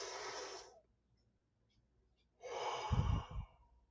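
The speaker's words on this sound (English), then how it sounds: "We should be breathing like that." A speaker demonstrates deep breathing with two long, close breaths, one opening the moment and another after a stretch of near silence, both loud and airy with a rougher exhale.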